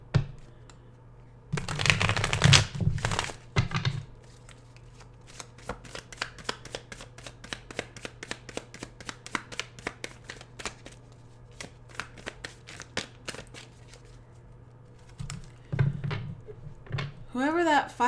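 Tarot cards are shuffled again and again up close, crisp rapid riffling clicks in quick bursts, with a brief pause before the shuffling resumes.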